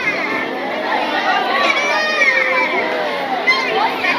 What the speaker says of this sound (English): There's a bit of a crowd gathering over here.